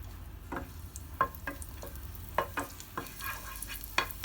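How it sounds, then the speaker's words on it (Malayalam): Raisins sautéing in hot ghee with a soft, low sizzle, broken by several sharp clicks and taps of a spoon stirring against the pan at an uneven pace. "ഇതിലേക്ക് ഞാനിപ്പോൾ കുറച്ച് കിസ്മിസ് ചേർത്ത് കൊടുക്കുന്നുണ്ട് അപ്പോൾ അത് ചേർത്തിട്ടൊന്ന് വഴറ്റി കൊടുക്കുക"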